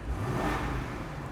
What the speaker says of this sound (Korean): 그냥 무난무난한 V8 엔진 사운드